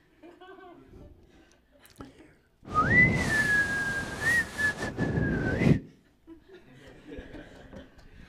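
A person whistles one sustained, slightly wavering tone for about three seconds, close and fairly loud, with family members talking quietly before and after it.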